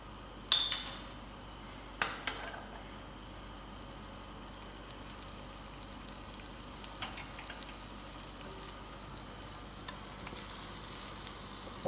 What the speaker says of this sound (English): I've got my stove on a high flame for my pot to heat up, and then I'm putting in my margarine